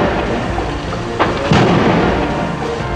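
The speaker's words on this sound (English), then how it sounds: "Fire tore through a paint factory, sending a series of explosions ricocheting through the building." Deep booms and muffled blasts from a burning paint factory rumble through a steady roar of fire, with a couple of sharper bursts standing out midway.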